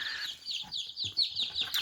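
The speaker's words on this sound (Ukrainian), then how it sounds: "китайські пухові ціпульки" Newly hatched Chinese downy chicks peep in a rapid string of high, thin cheeps, close and fairly soft, with a few faint low rustles beneath.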